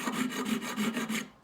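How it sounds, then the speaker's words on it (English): A hand file cutting dovetail bevels on iron barrel lugs for a wall gun, rapid rhythmic rasping strokes close up, about eight back-and-forth passes, with no talk. "I get the file with the safe side so it doesn't mess up your vise"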